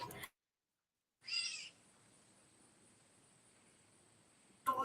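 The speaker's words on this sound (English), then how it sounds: "I do have a cat, but that's not a cat. This is a bird." A bird gives a short, cat-like meowing call, one brief faint burst in a quiet outdoor setting, framed by moments of other sound.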